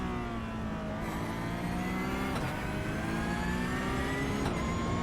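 Porsche 911 GT3 Cup (992) race car accelerating at Imola, a steady loud in-car engine note rising in pitch, with two quick upshifts briefly dropping the revs before it climbs again.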